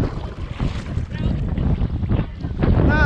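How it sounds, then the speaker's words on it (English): Strong wind buffets the microphone and rushes over open water during bass fishing on Lake Okeechobee at Lakeport, a steady loud roar with gusts and faint boat and water noise underneath. "the wind's blowing me away."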